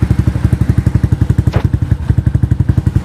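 A Rouser NS125 Fi motorcycle with an Akrapovic exhaust idles on a cold start with a steady, rapid, uneven exhaust pulse, loud and close, with a brief metallic rattle midway.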